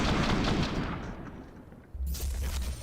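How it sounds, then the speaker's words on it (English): Gunfire rattles in the video game Counter-Strike during a BLAST Premier World Final esports match, a loud burst of shots that fades out, then a fresh crack of fire at the end. "I can't believe Twist hit that headshot"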